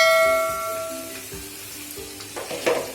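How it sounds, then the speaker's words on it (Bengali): Spice paste frying in a pan with browned onions for a Bengali dal and dhoka curry, a steady close sizzle that eases slightly and picks up again near the end, with faint stirring scrapes and no talk. "পেঁয়াজটা লাল করে ভাজা হয়ে গেলে আমি মশলার পেস্টটা এর মধ্যে দিয়ে দিব"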